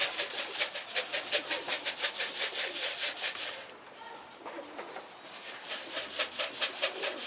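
An escaped pigeon flies loose overhead, its wings beating in a fast, regular fluttering rhythm that stops briefly midway and then resumes, fairly close and clear with no voices.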